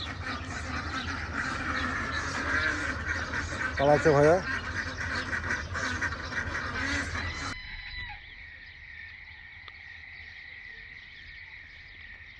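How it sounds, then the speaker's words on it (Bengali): Ducks on a farm in Kuwait give a short burst of nasal quacks in the middle, set against a busy background of poultry. A person talks over the scene. "এখানে দেখো হাঁস দেখো হাঁস"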